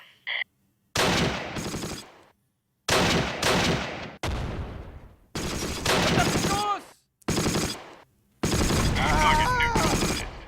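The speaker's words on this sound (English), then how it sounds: "that had to have been a gunshot because it was way too far from the shrapnel" Bursts of rapid automatic gunfire and rifle shots from the WWII battle game Close Combat, set at Mortain in 1944, come in five or six loud clusters separated by short silences.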